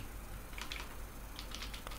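Keys tapped on a computer keyboard while an SMS is typed, heard as two short bursts of quick, light clicks, close and faint over a low steady hum.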